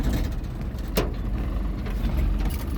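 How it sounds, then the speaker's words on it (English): An old diesel truck with a manual gearbox rumbles low and steady as it creeps forward on clutch release alone, with a brief sharp mechanical hiss or clunk early on. "This truck will literally start driving on its own."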